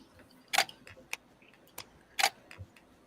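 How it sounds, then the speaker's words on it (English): Camera shutter clicks during a livestream, sparse sharp snaps at irregular intervals against a quiet background, two of them noticeably louder. "wouldn't be a live stream without the sound of Todd's shutter."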